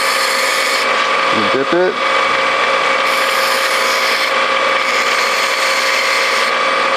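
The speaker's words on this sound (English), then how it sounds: "So we turn on our grinder." A bench grinder spins steadily as tungsten welding electrodes are sharpened to a point against the wheel, a continuous loud whine with a brief scraping burst as a rod touches, a voice speaking briefly over it.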